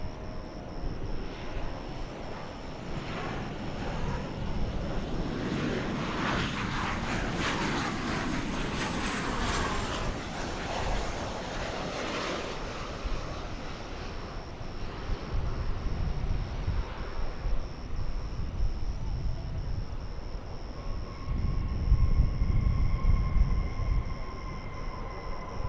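An airliner approaches DFW Airport, its engine rumble swelling and sweeping overhead at moderate distance, then easing into a lingering whine with gusty low rumbles later on.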